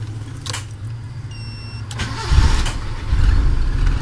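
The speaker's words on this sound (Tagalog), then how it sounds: "paandarin lang muna natin yung makina natin" A car engine cranks and catches, then settles into a steady idle, loud and close, with a brief electronic chirp beforehand.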